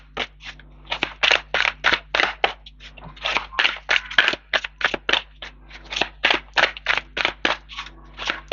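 Tarot cards being handled and laid over one another: a long series of crisp, close papery slaps and shuffles in a steady irregular rhythm, alone against a faint hum.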